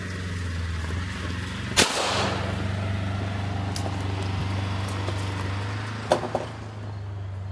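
A Sig P211 GTO pistol fires two sharp, loud gunshots about four seconds apart, each echoing outdoors, over a steady low engine-like hum.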